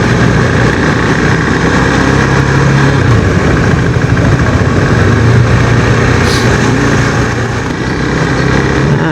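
A KTM motorcycle engine runs steadily and loudly at close range, a continuous low rumble with no notable revving changes throughout.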